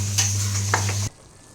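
Country chicken being mixed with rock salt in a pot: a brief burst of stirring with a few scraping clinks over a steady hum, which cuts off abruptly after about a second.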